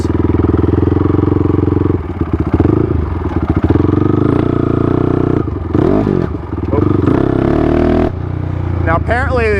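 A Honda 450R big bore dirt bike engine running steadily while riding, with rpm dips and rises as gears shift, a loud close drone with some clatter, and a voice talking over it.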